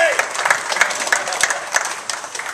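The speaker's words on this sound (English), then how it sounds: "So give yourselves a round of applause for supporting this great cause." Golfers at a charity golf outing clap together, a lively close burst of many hands with sharp individual claps standing out, loudest at the start and slowly easing.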